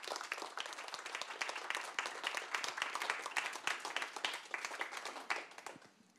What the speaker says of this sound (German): Bitte einen herzlichen Applaus für unsere Gäste.